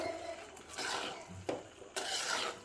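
A spatula stirs fried cauliflower and capsicum in a pan for cauliflower Manchurian, making a few soft scrapes and clinks against the metal over a faint sizzle. The sound is quiet and close, with no talk.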